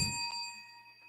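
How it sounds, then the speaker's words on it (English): A small bell struck once by hand, a bright clear ding with a thin ringing tone that decays quietly over about a second, heard alone. "let me hit my bell"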